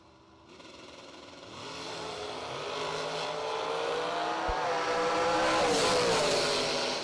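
A dragster and a door car launch side by side at a drag strip during a million-dollar bracket race, engines roaring and building steadily louder as they accelerate away down the track.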